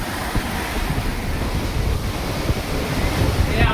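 Sea surf roars onto the shore of a beach in Kutch, a dense, loud, continuous wash of breaking waves mixed with wind buffeting the microphone.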